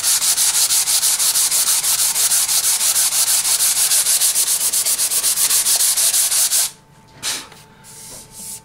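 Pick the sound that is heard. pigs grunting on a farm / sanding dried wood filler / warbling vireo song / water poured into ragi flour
sanding dried wood filler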